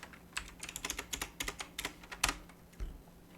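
Rapid, close clatter of keys on a computer keyboard, two quick bursts of short taps followed by a pause and a final few keystrokes, with no talking.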